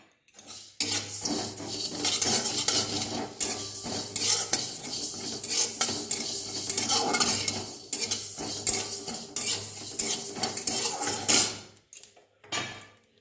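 Fennel and coriander seeds stirred in a pan with a metal spoon, giving a steady clatter and scrape of utensil against cookware with a faint sizzle underneath, continuous and close, then stopping near the end.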